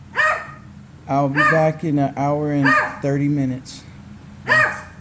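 A pet dog barks in a home kitchen, a few loud, sharp barks spaced out over several seconds, mixed in with a person talking nearby.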